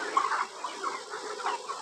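Chickens on a poultry farm, broilers of about 2.5 to 3 kg in summer heat, give repeated soft clucks over a steady background hum, with no one speaking.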